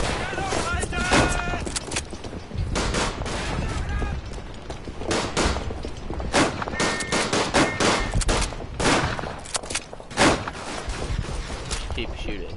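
Dense, loud gunfire from the World War I shooter Verdun: rapid overlapping rifle and machine-gun bursts crackle almost nonstop, with a voice talking over the shooting.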